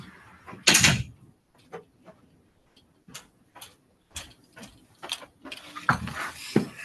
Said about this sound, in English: Pardon me 1 second, I'm just going to close the door.